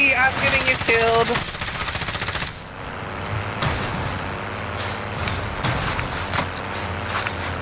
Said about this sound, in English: We're getting shot from other side,